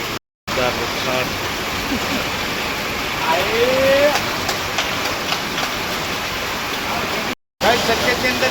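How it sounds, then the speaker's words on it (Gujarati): Steady, dense hiss of heavy rain pouring down in Sarkhej, continuous and loud throughout, with a faint voice briefly underneath. "વરસાદ પડી ગયો અત્યારે"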